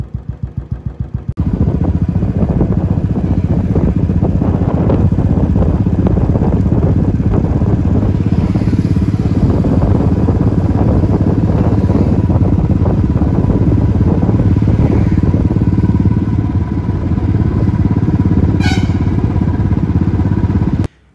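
A motorcycle rides along a road toward Panchgani in Maharashtra's hill country, its engine a loud, continuous close-up drone with steady clatter and rumble for about twenty seconds.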